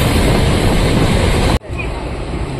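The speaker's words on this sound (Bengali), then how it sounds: "আবার গাড়ি আস্তে আস্তে গতি ধরছে।" The Duranta Express rolls along gaining speed, a continuous loud rumble of wheels and carriage noise that drops abruptly midway and resumes more quietly, with no clear talk.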